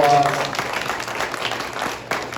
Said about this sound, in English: if you could give parents a big round of applause